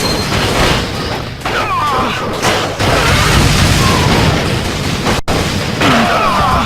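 Gunfire and explosions from the run-and-gun game Hard Corps Uprising roar almost continuously, a loud, dense wall of booms and blasts with brief dips and one sharp cut.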